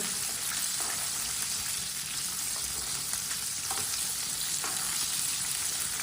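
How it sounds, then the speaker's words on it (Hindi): Chicken pakoras fry in hot oil, giving a steady, fairly quiet sizzle and crackle throughout, with a few soft stirring clicks. "6-7 मिनट के लिए चिकन को फ्राई करना है ताकि चिकन हमारा अंदर तक पक जाए।"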